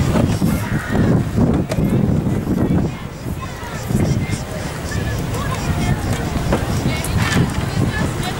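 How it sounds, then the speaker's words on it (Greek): Wind buffeting an outdoor microphone at an open-air political youth event, a rough low rumble that continues under a person speaking. "Μια στιγμή γιατί θα μας πάρει ο αέρας."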